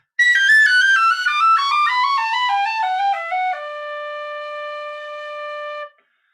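A tin whistle plays a finger articulation exercise, a quick descending run of clear piping notes stepping down the scale, ending on a long held low note, played solo and close.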